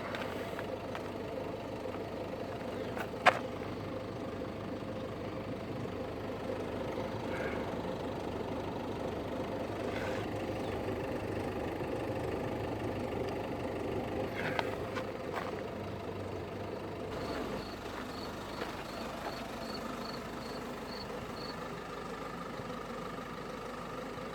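A 2012 Peugeot 5008 HDi 110 diesel engine idles steadily with a low, even mechanical rumble and faint clatter, with a few brief clicks along the way and a slight change in tone near the end.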